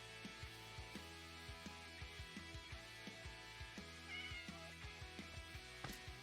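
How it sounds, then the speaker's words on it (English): Cat in a Superflat Adventure game meowing repeatedly, a series of short, fairly faint mews spaced across the stretch with no talking. "I saw a kitty cat."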